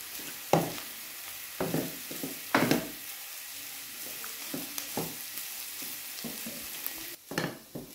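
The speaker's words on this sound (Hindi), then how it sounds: "अब हम इसको अच्छी तरह भूनेंगे।" Chicken frying in a pan, a near, continuous sizzle broken by repeated stirring scrapes and clatters of the spatula, with no voices.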